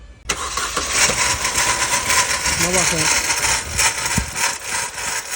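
A car engine with a broken turbo housing cranks, catches and keeps running with a rough, steady mechanical roar close by, while someone talks over it.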